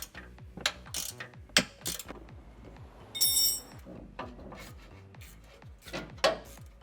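A wrench ratchets repeatedly while loosening upper control arm bolts on a 2023 Nissan Frontier Pro-4X, close and clicking in quick bursts separated by short pauses, with a brief metallic clink midway.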